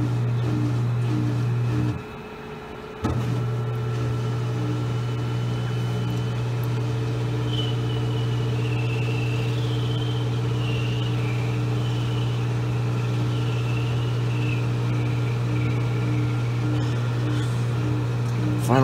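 A Maytag washing machine spins at about 1160 RPM in its final extract, running empty, giving a steady loud mechanical drone with a whining tone that climbs as it spins, briefly cut at one point.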